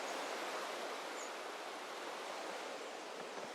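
The Louisa River flows in a steady, soft broadband rush, faint and unbroken, with no voices over it.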